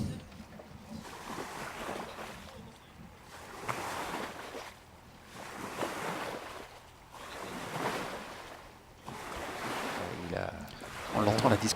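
Water waves churned up by a slalom water skier at a men's French championship, surging and washing in broad swells roughly every two to three seconds, with wind noise and faint voices underneath.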